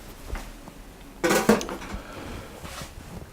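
Muffin batter for strawberry and cream muffins being mixed in a bowl, the dry flour ingredients stirred together; a quiet scrape gives way to a short clattering burst of utensil on bowl, then it settles back to soft movement.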